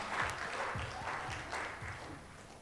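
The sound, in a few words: audience applause for presenters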